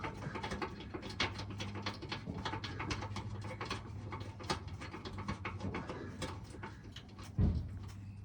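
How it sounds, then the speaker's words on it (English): A nut is threaded by hand onto a bolt while a tow hitch is fitted to a Mitsubishi Triton, giving close, faint, continuous metallic ticking and rattling, with a small knock near the end. "I'm just putting the nut on top of that bolt, getting it up finger tight"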